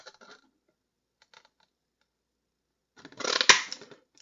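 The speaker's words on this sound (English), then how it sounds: "Now I'm going to bring in the punch to cut that out." A paper craft punch cuts out a stamped frame in one short, crisp crunch near the end, after a few faint handling rustles and a long quiet stretch.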